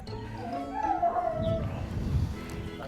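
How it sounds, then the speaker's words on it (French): A female Doberman howls in a drawn-out, wavering tone that rises and falls, set against a muffled, rumbling background. "C'est une femelle Doberman qui m'a importé de l'Inde."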